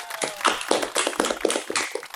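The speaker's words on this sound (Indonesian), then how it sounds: "Tepuk tangan dulu nih." A small group of people clapping at a family Lebaran gathering, a short, brisk patter of applause lasting about two seconds, close and fairly loud.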